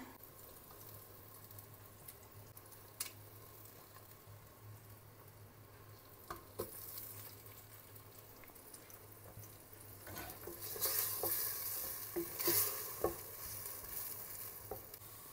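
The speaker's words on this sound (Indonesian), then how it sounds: "ini dia bumbunya sudah dihaluskan. Langsung aja kita tumis." A ground spice paste for beef tongseng sautés in a pan with leaves, giving a quiet, steady sizzle with occasional stirring scrapes that swell a little near the end.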